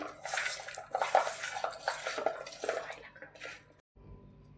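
Fish curry ingredients with chili powder and turmeric are mixed in a metal bowl, heard as close, wet clinking and scraping of utensil against bowl in steady strokes. The mixing fades into quiet near the end.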